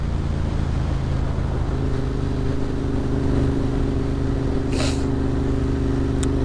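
A Royal Enfield Interceptor motorcycle with an 865 big bore kit cruises at about 3,000 RPM and 40 mph, its engine a steady low drone under heavy rushing wind noise, with a brief hiss near the end.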